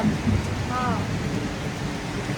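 Steady, dense rainfall at a beach in Pattaya, Thailand hisses throughout, a constant wash of broadband noise with a faint low rumble underneath.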